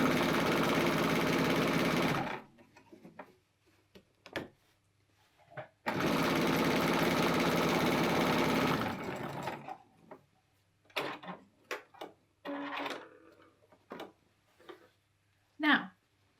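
A sewing machine stitches a seam through fabric. It runs in two steady, whirring bursts of a few seconds each, and a voice speaks quietly during the pause and after the second run.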